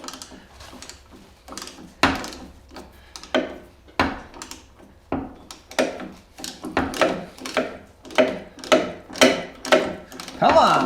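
A wrench turns a bolt on a Toyota Tacoma body mount, making repeated ratcheting clicks and clunks in uneven bursts that settle into a steady, quickening rhythm, close and fairly loud.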